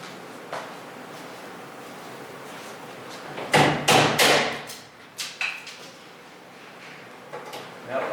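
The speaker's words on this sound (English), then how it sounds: "so I went and bought me a nice little tap hammer" A small tap hammer strikes parts during a Flightdeck Solutions flight simulator rebuild: a few sharp, close knocks clustered together, with quieter scattered taps and faint handling rustle around them and no voices.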